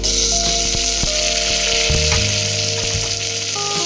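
Tomatoes frying with already-fried onions in a pan, a loud, dense, close sizzle that runs continuously, broken by a few stirring knocks and scrapes, with no talk.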